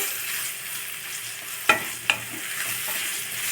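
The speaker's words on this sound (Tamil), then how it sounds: "அடுத்தது பீர்க்கங்காயை நல்லா ஒரு 2 வதக்கிட்டு" Ridge gourd sautéing in a pan with turmeric, a steady soft sizzle broken by two sharp spatula clinks against the metal, with no talking.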